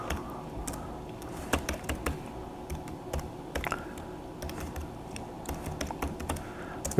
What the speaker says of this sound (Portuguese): Estou digitando aqui o meu programa